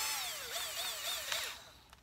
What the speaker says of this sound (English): So what I'm doing is I'm drilling a hole through the wood.